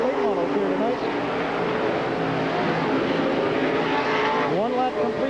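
Limited late model race cars roar around the Silver Spring Speedway oval in an 8-lap feature, engines droning loud and steady with pitch sweeps as cars pass, under a track announcer's continuous commentary.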